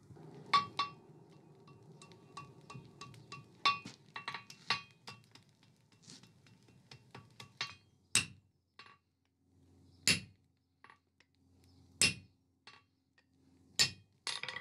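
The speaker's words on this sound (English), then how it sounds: "and forge weld the two together" Hammer forge welding a folded metal bar, sharp ringing blows on hot steel, some in quick clusters and others spaced a second or two apart, fairly faint with quiet gaps between.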